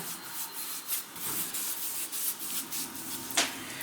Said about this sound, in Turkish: Dekopaj tutkalı sürüyoruz.